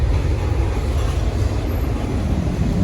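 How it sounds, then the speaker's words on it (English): A train passes close by near the entrance of a former hotel site, a steady loud low rumble of rolling rail cars that holds for the whole stretch with no voices over it. "of course there's a train coming"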